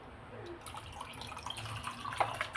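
Water trickles and splashes into a mixing bowl while rice cake batter is prepared, quiet and close, growing a little louder toward the end.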